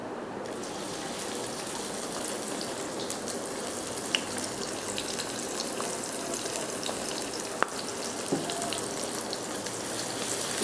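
Chopped onions fry with cumin in a pan for palak dal, giving a soft, constant sizzle and crackle with a few faint clicks, heard from close by.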